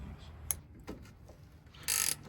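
Ratchet wrench clicking as it tightens a slack brake adjuster on a Mack truck's S-cam drum brake, a few sharp close clicks with a brief louder burst near the end.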